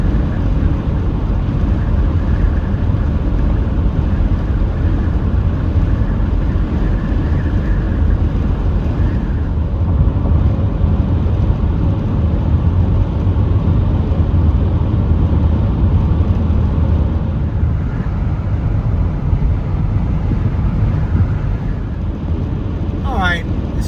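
Steady, loud low-frequency road rumble inside a vehicle cruising along a Texas highway, continuous and even throughout with no talking.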